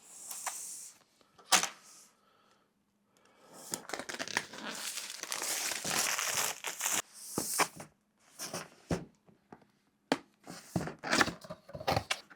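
A DJI Avata 2 drone box is opened and unpacked, with bursts of crinkling and rustling bag or plastic packaging, scraping cardboard and several sharp clacks and thumps between quieter pauses, close and fairly loud, no speech.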